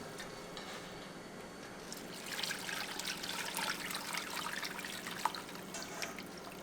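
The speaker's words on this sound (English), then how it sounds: "we're going to pour it over some onion and potato" Strained corned elk shank broth pours over onion and potato in a pot as a faint, steady trickle that swells after a quiet start. A soft splash comes near the end, and nobody speaks.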